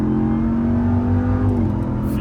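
A 707hp Dodge Ram TRX pickup, a heavy 3.5-ton truck, roars loudly and steadily up close as its engine pulls hard with wheelspin, the pitch holding then dropping briefly near the end as it shifts.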